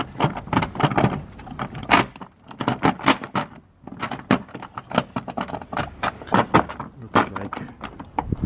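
Plastic trim panel on a Nissan Qashqai being worked loose, a close, busy run of sharp clicks, snaps and rattling knocks in quick irregular bursts with brief pauses.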